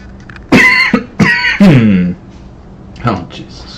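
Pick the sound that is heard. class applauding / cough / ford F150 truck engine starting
cough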